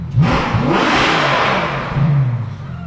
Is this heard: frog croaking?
no